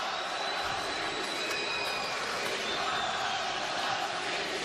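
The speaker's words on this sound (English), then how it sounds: "A chant for Kownacki by the crowd." A large arena crowd at a boxing event chants for boxer Adam Kownacki, a dense, continuous roar of many voices filling the hall at steady loudness.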